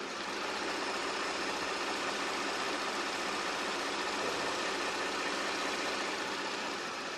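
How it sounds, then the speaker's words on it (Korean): A Hyundai Equus VS380 flagship sedan engine idles steadily and smoothly with the hood open, a constant broadband hum with no revving or talk. "이 대형 플래그십 세단에 엔진 소리 한번 들려드리도록 할게요"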